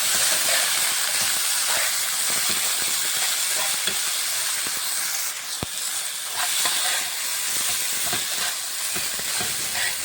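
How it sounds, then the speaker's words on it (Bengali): Food fries in a hot pan with a constant hiss and sizzle, punctuated by frequent scraping and clinking as it is stirred, loud and close throughout. "তো আমি এটাকে ভাজতেছি ভালোভাবে"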